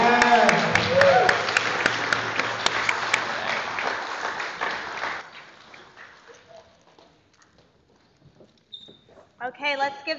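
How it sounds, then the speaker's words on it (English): An audience applauds at a 2023 commencement ceremony, a burst of clapping for several seconds that fades out, followed by quiet and then faint voices. "let's give them another round of applause"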